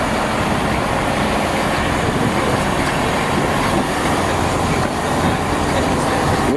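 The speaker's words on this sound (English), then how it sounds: "There we go, that is the Great Western Railway service from Slough to Windsor in Central." A Great Western Railway train running from Slough to Windsor gives a continuous broadband rumble of wheels and carriage noise, steady and close, with no talk.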